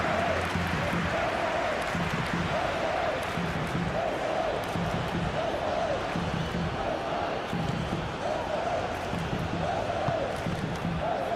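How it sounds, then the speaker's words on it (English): Simulated football stadium crowd from PES 21 during an Argentina versus Austria World Cup match, a steady dense roar with rhythmic chanting swells repeating throughout, continuous and enveloping. "Maybe the crowd will stay a little quieter next time."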